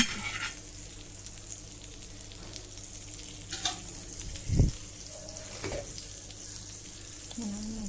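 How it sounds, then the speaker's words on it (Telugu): Paneer shallow-frying in a pan gives a soft, continuous crackling sizzle, punctuated by a few clinks and a brief thump as the pieces are moved about. "ఇప్పుడు నేను ప్యాన్ పెట్టుకొని పన్నీర్ని కొంచెం shallow fry, colour golden brown colour వచ్చేలాగా ఫ్రై చేసుకుందాం పన్నీర్ని"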